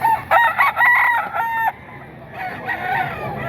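A two-year-old white choco bull stag rooster crows loudly and close in a strained, broken call, followed by a softer, rougher second call.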